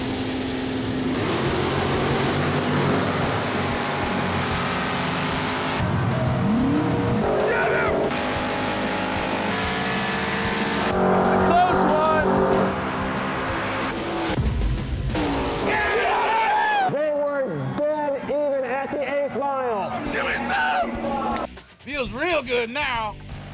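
A 1973 Chevrolet Nova with a 468 big-block engine at a drag race, loud engine roar and revving with tire noise, mixed with talking.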